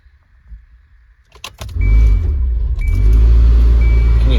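A 2015 Kia Soul 1.6L base model with a fan noise fault when the fan is switched on cranks and starts: a few clicks, then a loud steady engine and blower drone, plus a thin whining tone that appears and fades.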